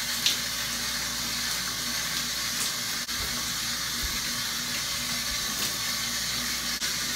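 Water runs steadily from a faucet while hair is rinsed clean after shampooing, a continuous close hiss of flow with no talking.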